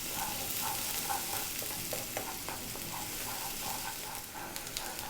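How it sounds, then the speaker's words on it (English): Onion stir-fried on high heat in a pan, a dense continuous sizzle with a repeating rhythm of stirring scrapes and tosses, close and fairly loud with no talk. "Next up, we're going to drop in the onion. Stay on this high heat and just go for 2 minutes."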